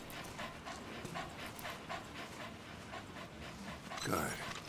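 A dog pants steadily in Metal Gear Solid V: The Phantom Pain, a rhythmic run of breathy huffs at moderate loudness, ending in a louder, brighter burst near the close.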